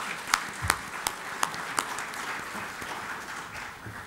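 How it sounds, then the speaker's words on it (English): Conference audience applauding panelists, a spread of many claps with a few sharp nearby ones, fading gradually over several seconds. "A big round of applause to our panelists"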